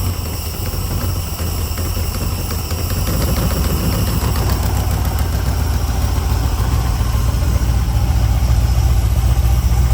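A carbureted LS V8 swapped into a 1971 El Camino idles steadily, a loud, close, continuous low rumble with a slight rise in level partway through and no talking.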